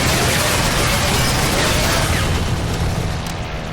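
Aircraft strafing explosions in the World War II game Combat Mission: Red Thunder, a dense loud roar of booms and blasts that fades slightly at the end, with no talk.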